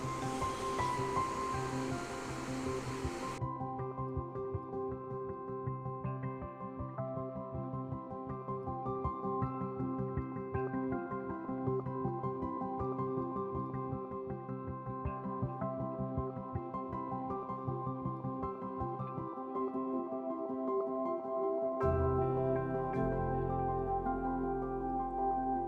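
Water pours down a waterfall at High Falls in winter, making a steady, continuous rushing roar at moderate loudness that holds unbroken for the whole stretch, with a brief lower rumble near the end and no voices.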